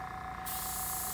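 Airbrush spraying paint onto a 1/32 scale Trumpeter P-38 model, a steady close hiss that starts halfway through and then holds loud and even, with no talk.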